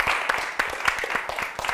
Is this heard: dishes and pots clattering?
no